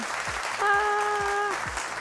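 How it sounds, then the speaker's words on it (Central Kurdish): Strong applause rises from a studio audience on a quiz and prize show, a steady wash of clapping with a sustained electronic tone sounding briefly partway through. "یەک چەپڵەی بەهێز"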